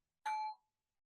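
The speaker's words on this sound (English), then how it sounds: "I'll sign us out with a bell ring just to circulate the good energy" A single bell struck once to close a mindfulness session, giving a clear ringing tone that sustains briefly and then fades into silence, heard alone without talking.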